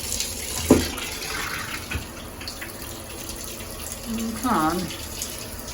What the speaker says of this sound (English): Let's see what the water pressure is like.